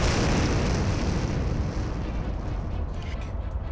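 Cannon fire in a Hindi audio drama of The Phantom: heavy, rumbling blasts that merge into a continuous loud boom, slowly easing off over a few seconds.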